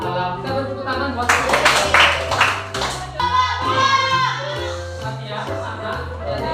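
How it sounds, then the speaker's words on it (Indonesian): Children in a third-grade classroom clap together in a quick, patterned rhythm of sharp hand strikes, with young voices chanting along and music playing underneath. "Kita beri tepuk tangan buat"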